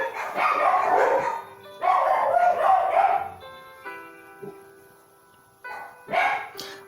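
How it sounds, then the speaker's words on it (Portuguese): Female dogs barking in a home kitchen during sourdough starter preparation, loud repeated bursts in two long runs, then quieter, with a final short burst near the end; no talk over them. "Não repara o latido das cachorras, tá, gente?"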